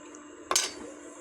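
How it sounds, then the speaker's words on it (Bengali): Water is poured into a pan of fried taro pieces for a tilapia fish curry, giving one brief, sharp hissing splash that fades into a softer sizzle. "এখানে আমি পরিমাণ মতো জল দিয়ে দিলাম।"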